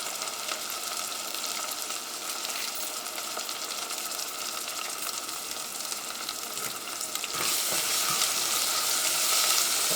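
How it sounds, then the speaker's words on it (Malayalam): Onion, ginger garlic paste, green chilli and curry leaves sauté in hot oil for a chicken stew, giving a steady, close sizzle and crackle throughout that grows a little louder and brighter near the end. "ഇതെല്ലാം കൂടിയിട്ട് നന്നായിട്ടൊന്ന് വഴറ്റിയെടുക്കാം."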